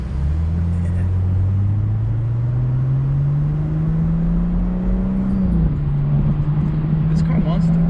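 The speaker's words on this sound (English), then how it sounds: "I wanted to hear that little V6" The V6 engine of an Audi B9 S5 Sportback drones steadily from close by as the car drives, its pitch slowly climbing under acceleration before dipping briefly near the end.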